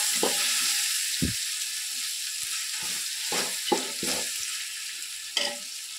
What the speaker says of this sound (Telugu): మనం ఫ్రెష్గా ఆడించుకున్న అల్లం తెల్లవాయి పేస్ట్ వేసేయాలి. వేసి ఒక 15 నిమిషాలు దోరగా